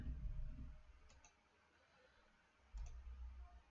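Two pairs of quick computer mouse clicks, close and faint, over a quiet room hum with low rumbling at the start and end.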